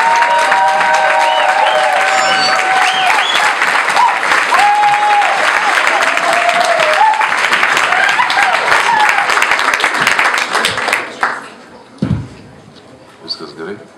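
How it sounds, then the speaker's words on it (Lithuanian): A large audience claps and cheers loudly for a yoga master and Tibetan gong virtuoso, dense continuous applause with whoops and shouts, then tapering off into scattered claps and talk near the end. "Virenijus mėgsta labai didelius aplodismentus."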